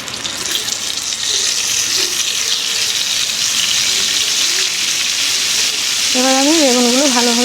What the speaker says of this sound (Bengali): এবার আমি এর বেগুনের মধ্যে দিয়ে দেব ফেটে রাখা